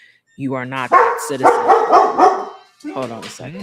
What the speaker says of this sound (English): I'm thinking it is the dog.